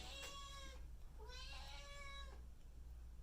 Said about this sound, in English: I don't know why she's meowing.